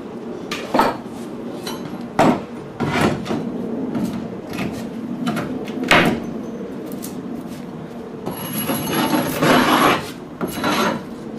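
A tool scrapes wood around a glue joint in a rasping, repeated way, giving short strokes with a few louder scrapes and a longer steady run near the end, close up and alone.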